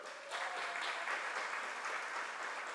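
A banquet audience applauds as names are read out, a steady patter of clapping from a moderate-sized crowd lasting a few seconds in an indoor hall.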